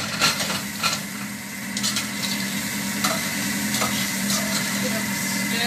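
Greens with diced tomato, turmeric, salt and chili sizzling steadily in a pan while being stirred, with scraping clicks of the utensil against the pan over a constant frying hiss.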